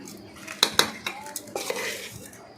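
A spoon working through cooked rice mixed with sugar in a metal pot for mutton biryani, a few sharp clinks against the rim followed by softer scraping stirs, close and alone.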